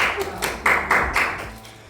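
Applause for guests on a Chilean talk show, with a few distinct claps and taps standing out over a softer wash that fades toward the end, with no talk.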